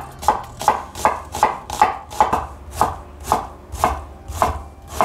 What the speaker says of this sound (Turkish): Soğanımızı olabildiğince ince kesiyoruz.